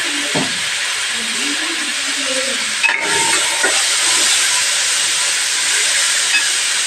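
Garlic, shallots, tomato and green chilli sautéing in a pan make a loud, continuous hiss and sizzle up close, with a few faint clinks and knocks over it.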